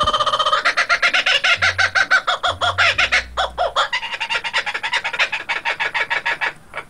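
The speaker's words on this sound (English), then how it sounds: "I don't think kangaroos make that noise." A strange animal cry from a kangaroo in an outback survival video game, a long rapid cackling, clucking stutter much like a rooster or hen, loud and close with no talk over it.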